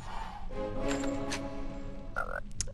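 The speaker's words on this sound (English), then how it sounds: "in the PS1 games, the sound effects of the chocolate frogs, they sound like they're burping" Chocolate frog sound effect from the Harry Potter PS1 video game, a croaky, burp-like bubbling call over a low game background hum, ending with a short, sharp chirp.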